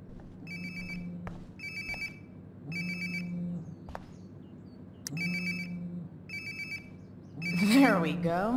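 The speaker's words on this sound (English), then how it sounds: "Sounds like my phone is definitely nearby." A phone rings in Life is Strange: Before the Storm, a repeating electronic ringtone in regular bursts of about a second each, moderately loud, with low game ambience beneath and a louder musical swell at the end.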